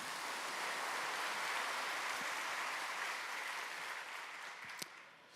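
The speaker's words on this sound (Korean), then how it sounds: "큰 격려의 박수 부탁드립니다." A church congregation gives sustained, even applause in a hall, a dense wash of many hands clapping that fades toward the end.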